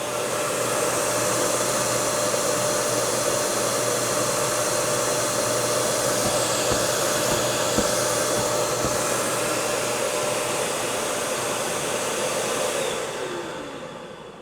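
A steady, loud whooshing roar of a Milwaukee M18 FUEL 9-gallon cordless dust extractor motor running continuously nearby, holding even before winding down at the very end.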